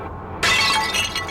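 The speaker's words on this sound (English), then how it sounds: "Ready to make that breaking glass sound effect noise?" A glass-shattering sound effect bursts in suddenly after a short quiet lead-in, a loud bright crash with tinkling fragments that fade over about a second.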